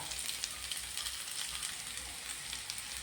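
Three medium onions fry in a hot pan with a steady bright sizzle and crackle, faint and even throughout with a soft low bubbling underneath.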